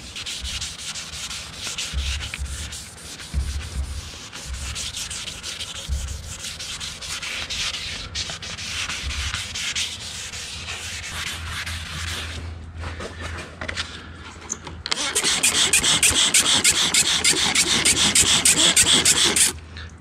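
Wet sanding of boat gel coat, a close, continuous rhythmic scrubbing rasp by hand that grows brighter and louder toward the end, with no talk.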